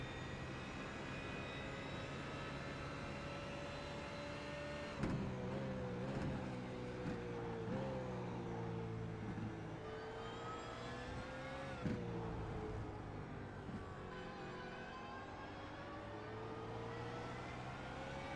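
BMW race car in the iRacing sim, engine note held in a steady high whine with harmonic overtones, brief shifts and pitch dips around gear changes, continuous and fairly loud without talk.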